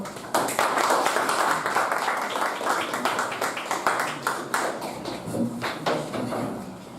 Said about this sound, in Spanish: Pido un aplauso, por favor